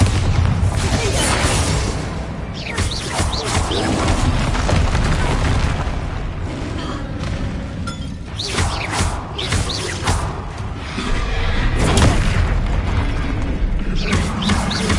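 Bombarda explosion spells booming during a troll fight in the Hogwarts Legacy video game, heard as dense, continuous combat audio with repeated heavy blasts and whooshes layered over a loud, rumbling game soundtrack.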